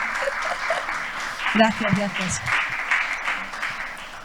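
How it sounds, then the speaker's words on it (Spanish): Audience applause for guests of a business panel at Tecnológico de Monterrey, a steady wash of clapping with a voice speaking briefly over it midway. "Quiero que les den un fuerte abrazo y a través de su aplauso."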